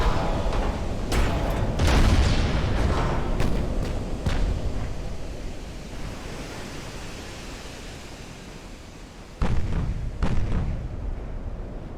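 Naval guns fire in the game Ultimate Admiral: Dreadnoughts, a series of loud booming reports over a dense roar of sea and wind, thinning out midway and returning with a pair of heavy blasts near the end.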